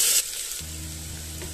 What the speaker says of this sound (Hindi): अदरक लहसुन के साथ हम आलू को थोड़ी देर तक फ्राई कर लेते हैं